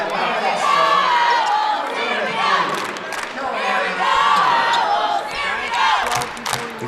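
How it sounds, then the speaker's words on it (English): A crowd at a Class D regional finals basketball game cheers and shouts for the trailing Owls, a loud, sustained roar that swells and dips in waves, with an announcer's voice over it. "You can hear the Owl crowd behind us cheering on their team"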